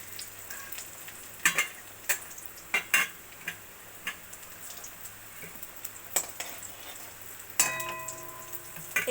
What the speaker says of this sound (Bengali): এবার ওই তেলের মধ্যে কুচিয়ে রাখা রসুন কুচিটা আমি দিয়ে দেব।